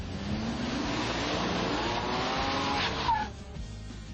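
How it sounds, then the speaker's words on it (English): Four-wheel drive Ford Ranger pickup truck driving hard: a loud, continuous engine and tire roar with a rising squeal, then a brief dip as it fades. "Now, the four-wheel drive Ford Ranger."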